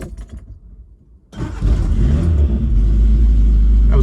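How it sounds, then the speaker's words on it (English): Cold start of a Suzuki Samurai engine: a brief quiet with faint clicks, then the engine catches at about 1.3 seconds and settles into a loud, steady, deep rumbling idle close by. "That was cold start, by the way."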